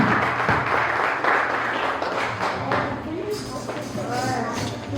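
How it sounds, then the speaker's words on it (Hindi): Congregation at a Pentecostal church Father's Day service breaks into applause, a loud, sustained wash of clapping with speech and crowd voices running through it, easing slightly toward the end. "सारे जने तालियां दे नाल परमेश्वर दे वचन दा स्वागत करें।"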